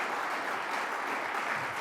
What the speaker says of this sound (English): let's give a special round of applause to the person who's going to make it all happen